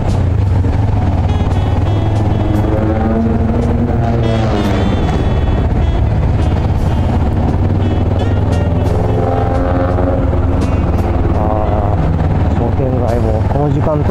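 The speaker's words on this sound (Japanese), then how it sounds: "うるさいだけの車も動かんといてほしいな" Traffic noise from cars and a motorcycle on Midosuji street in Osaka, with a steady, loud engine drone and passing vehicles throughout, heard from a moving GSX250R motorcycle with someone talking over it.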